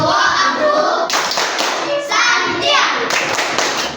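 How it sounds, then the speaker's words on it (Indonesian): A group claps the tepuk santiang clap routine, broadband rhythmic clapping in several bursts across about four seconds, loud and close, with a few faint voices mixed in. "Kita beri tepuk santiang untuk kelompok pertama tampil."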